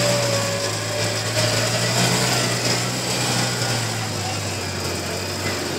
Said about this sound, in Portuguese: that brings corn to the truck. That's an auger.